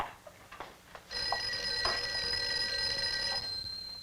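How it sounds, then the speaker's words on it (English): An old telephone bell in a 1959 office rings in a steady sustained metallic trill for a couple of seconds, fairly close, with light clicks and rustle before it. "I think your phone is ringing."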